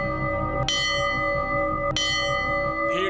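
A bell is struck twice, about a second apart. Each clear metallic strike rings on with a long sustaining hum over a quiet background, and a faint noise follows near the end.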